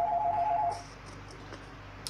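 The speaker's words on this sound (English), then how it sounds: "sorry that I got a phone call" A telephone rings with an incoming call, a steady electronic warble repeating over the first moment before cutting off, leaving quiet room hiss with faint clicks.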